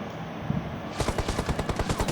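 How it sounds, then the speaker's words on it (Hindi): Automatic gunfire from behind in a battle royale game set in Midstein, a rapid burst of about a dozen evenly spaced shots over steady game ambience, loud and close. "उतने में मुझे पीछे से गोलियां पड़ने लगती हैं"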